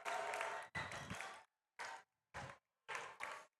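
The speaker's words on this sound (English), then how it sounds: "That'll draw some applause from the Riverdale faithful" Riverdale fans applaud at a high school volleyball match in the gym, loud bursts of clapping and cheering that come in several short waves separated by brief pauses.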